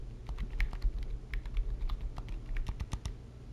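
Steady keyboard typing, crisp irregular keystrokes clattering up close for several seconds with no voices.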